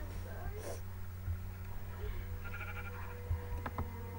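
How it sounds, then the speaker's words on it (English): A sheep bleats in the video game Minecraft, a short, soft call heard once or twice over a low hum, with a voice talking alongside. "Oh, there's a brown sheep over there."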